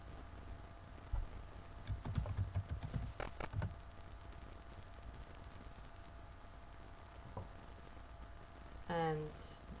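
Quiet, close typing on a computer keyboard: a short burst of clicky keystrokes in the middle, then a few isolated taps against a faint background hum.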